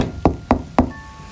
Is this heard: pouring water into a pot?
no